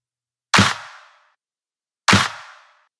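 Two layered dubstep snare hits, shifted off the grid in Ableton, sound as separate sharp cracks about one and a half seconds apart, each with a smeared, flammed noisy tail and nothing between them.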